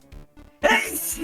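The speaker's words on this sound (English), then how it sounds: "Never heard an auto-tune sneeze before." A sneeze processed with auto-tune comes after a brief, soft vocal lead-in and bursts out loud and near, with a buzzy, pitched, electronic tone that trails off.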